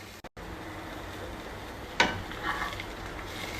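Onion hits hot oil with half a teaspoon of sugar for a Bengali mutton curry, a soft continuous sizzle with one sharp clatter as it drops into the pan, close and fairly quiet.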